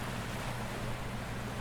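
Stormy ocean waves surging and churning around a rocking ship in heavy rain, used as an effect in an audio story; a steady, dense roar of surf and wind with no pauses, fairly loud and unbroken across the short stretch.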